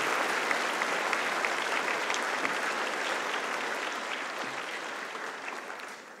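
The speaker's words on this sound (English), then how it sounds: "Please give them a round of applause." Sustained applause from a large crowd, steady and dense throughout, tapering slightly at the end with no voices standing out.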